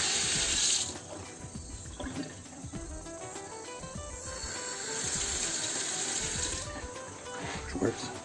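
Water runs from a foldable faucet into a standard sink in a tiny house, a steady splashing hiss that starts and stops a couple of times, fairly close.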